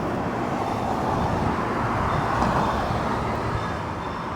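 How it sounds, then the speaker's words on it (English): The Disneyland Railroad train passes outside the park, a steady broad rumble of wheels and motion heard at a distance, continuous and even throughout with no voices. "You can also hear the Disneyland Railroad going by."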